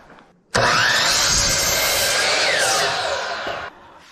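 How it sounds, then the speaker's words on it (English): A chop saw starts abruptly and cuts loudly through a wooden stud for about three seconds, its pitch shifting, then stops. "Go ahead and head over to chop saw."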